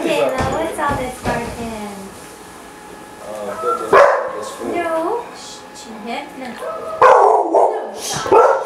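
Dog barking outdoors in short, sharp bursts with a few yips and whimpers, heard in intermittent clusters alongside people talking nearby.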